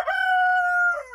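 A rooster at an off-grid mountain homestead lets out a single loud, close cock-a-doodle-doo crow, one sustained call with no other sounds around it.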